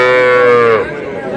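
Cattle, young bulls and heifer calves, at a rural weekly livestock market in Bangladesh; a single loud, close moo lasts about a second before trailing off into crowd background.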